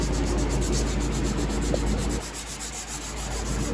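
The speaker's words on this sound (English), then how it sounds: "So just go ahead and hand sand it, and I hand sand with 220 grit." Hand sanding a knife handle with 220 grit sandpaper, a steady close scratchy rubbing that runs continuously, easing slightly partway through, with no talk.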